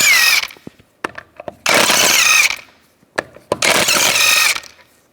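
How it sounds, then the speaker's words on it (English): Power tool with a 17mm socket spinning out wheel lug bolts on a 2007-2013 Mini Cooper, three loud close whirring bursts separated by clicks and brief pauses. "take the lug bolts out"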